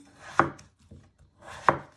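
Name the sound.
chopping potato with a sharp knife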